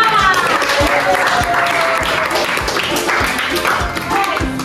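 A high-school economics class bursts into steady, enthusiastic applause for a student, dense overlapping claps close by that run throughout with a voice faintly beneath.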